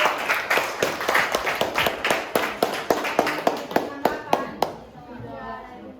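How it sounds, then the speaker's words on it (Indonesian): A classroom group claps for the presenting team: a run of quick, fairly even handclaps from a small crowd, close by, fading out after about five seconds. "tepuk tangan untuk kelompok 2"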